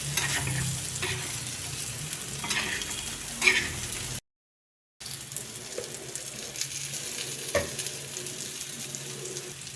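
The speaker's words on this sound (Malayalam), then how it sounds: "ഇതെല്ലാം കൂടി നന്നായി ഒന്ന് മിക്സ് ചെയ്തെടുക്കാം" A prawn and plantain roast with coriander leaves and pepper is stirred in a pan, giving a steady soft sizzle with spoon scrapes, briefly cut to silence midway, then resuming.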